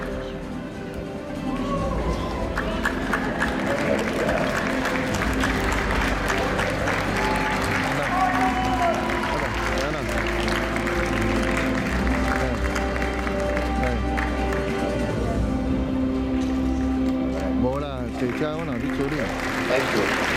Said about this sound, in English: let's give them one clap in unison